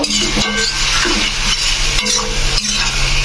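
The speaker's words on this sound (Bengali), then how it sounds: "দিয়ে এটাকে দিয়ে এবার একটু ভালো করে কষিয়ে নেব" A ground spice mixture is stirred and fried in a pan for muri ghonto made with fish head, giving a loud, close sizzle with repeated scraping strokes at about half-second intervals and no talking.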